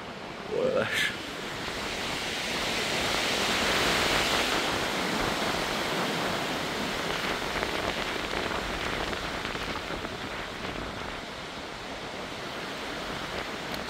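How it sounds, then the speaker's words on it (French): Strong wind gusts roar through a storm, Storm Herminia, as a broad, steady rushing noise that swells loudest around the middle and then eases slightly, with a brief sharp sound near the start. "Bruit de rafale derrière."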